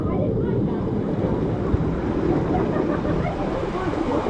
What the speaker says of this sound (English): we have to end it with a waterfall.